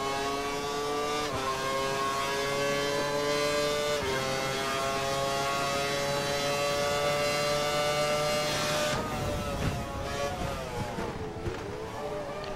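A race car in a racing video game at the Valencia circuit holds a steady high-pitched engine whine, then the pitch drops in steps as it brakes and shifts down. The engine is loud and continuous with no talk over it.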